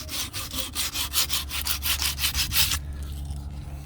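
Rhythmic back-and-forth sanding strokes of 120 or 80 grit sandpaper working curb rash on the edge of an aluminum 2004 Acura TL A-Spec wheel, close and steady for nearly three seconds, then stopping.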